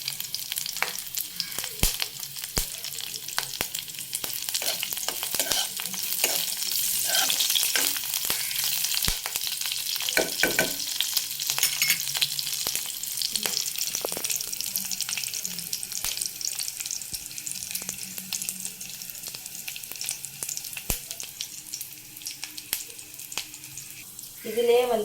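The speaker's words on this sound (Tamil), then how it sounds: "இது நல்லா ஒரு லைட் ப்ரௌன் வர அளவுக்கு நல்லா இந்த மாதிரி வதக்கிக்கோங்க." Ingredients for cinnamon rice sauté in a hot pan, giving a steady close sizzle broken by scraping stirs and clicks, with a voice talking over the cooking.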